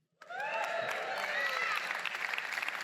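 A church congregation claps during a Sunday sermon: applause starts suddenly and holds for a few seconds, with scattered voices calling out over the clapping.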